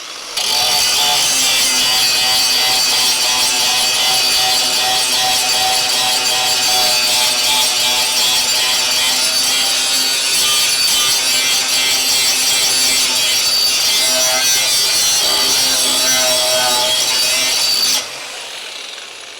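An angle grinder with a flap disc sands metal on a Crew Cab Charger restoration, a loud, steady whining grind that runs unbroken for about eighteen seconds before cutting off.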